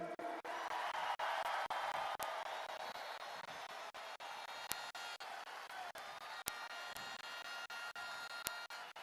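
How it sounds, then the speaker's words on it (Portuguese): Crowd applause at a Jair Bolsonaro political rally on 21 April 2024: a dense, steady wash of many hands clapping for about nine seconds, with scattered sharp pops cutting through, moderately distant and without clear speech. "E eu peço agora, respeitosamente, uma salva de palmas para Elon Musk."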